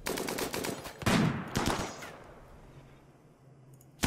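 A rapid volley of gunshots in the colony game RimWorld, close and loud for about two seconds, then a fading rumble before one more sharp shot at the end.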